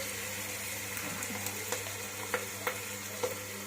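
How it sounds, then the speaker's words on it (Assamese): Garlic fries in oil in a pan, a constant close sizzle with a few sharp ticks and spoon scrapes, no speech. "নহৰু দি ভাজি থাকিব"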